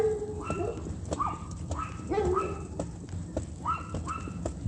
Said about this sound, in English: That is a dog bark that is made echoic